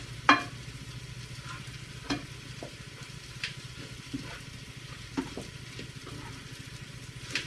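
A homemade dip of melting cream cheese and breadcrumbs cooking in a pan, with a steady close sizzle and several soft spoon-stirring scrapes spaced a second or so apart, with no talk.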